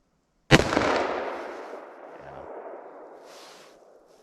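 A single loud, close gunshot from a 20-ounce .357 Magnum revolver with a 2-inch barrel, its sharp crack followed by a long, fading echo.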